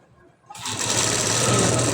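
A sewing machine runs steadily, stitching a back design for a blouse; after half a second of near-quiet the motor starts and keeps up a loud, even whir with a fast needle rhythm to the end.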